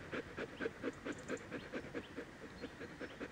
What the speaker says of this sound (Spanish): de Argos, mi perro que está ahí tumbado y cansado le estaréis escuchando jadea